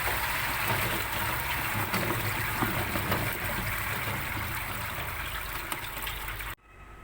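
Water pours and splashes steadily through a strainer holding lime-soaked pumpkin pieces for rinsing, a continuous close gush that stops abruptly near the end.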